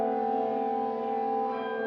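A short stretch of a sampled Russian jazz ensemble recording holds a smooth, sustained tonal chord with a steady, even level and no breaks or percussion.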